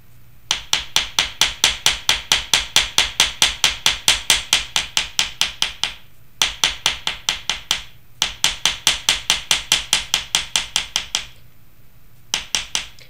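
A small hammer flares out silver wire for a cuff frame, striking in fast, even, ringing taps, steady runs of blows broken by two brief pauses, close and loud with nothing else heard.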